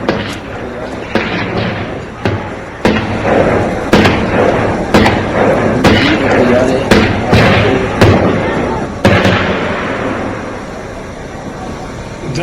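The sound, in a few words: army firing a grenade launcher at a hideout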